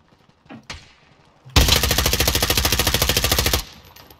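Sustained automatic gunfire in Call of Duty Modern Warfare, a loud rapid burst lasting about two seconds after a couple of faint thumps, with distant shots before and after.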